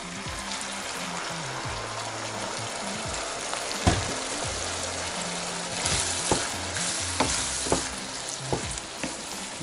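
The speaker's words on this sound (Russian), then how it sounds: "Теперь добавляем красного сухого вина." Red dry wine poured onto fried minced meat for a Bolognese sauce, a continuous close sizzle and bubbling hiss, with several scraping, stirring knocks against the pan.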